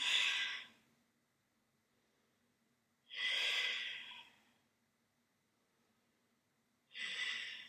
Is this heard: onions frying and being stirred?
no